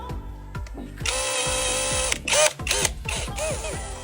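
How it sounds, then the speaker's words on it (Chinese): A power drill drives screws into the handle of a wooden bedroom door, close and loud, with short motor whirs rising in pitch and several longer runs interrupted by clicks and handling knocks. "装回去之后，咱们把螺丝给它拧上"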